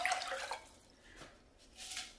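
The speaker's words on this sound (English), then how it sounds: "Okay, so I'm gonna add the water." Water poured into a pot while making arroz con leche, a faint, short trickle and splash that fades and returns briefly.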